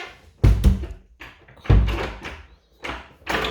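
Interior door of a rented house being closed during a move-in inspection, giving two pairs of sharp wooden thunks close up, with a faint knock between them and a brief breathy rustle at the end.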